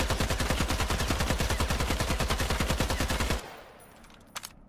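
A Sako rifle in the battle royale game Islands of Nyne fires a long, rapid, evenly spaced burst of loud shots. The shots stop abruptly, leaving faint clicks afterward.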